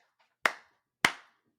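Two slow, deliberate hand claps, about half a second apart, each sharp and close with a short decay, in otherwise near silence.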